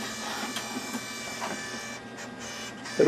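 A robotic disc printer printing an image onto a disc, giving a steady mechanical whir and buzz at close range with a brief louder clunk at the very end; no talking.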